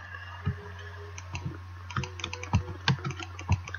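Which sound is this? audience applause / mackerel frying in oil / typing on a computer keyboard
typing on a computer keyboard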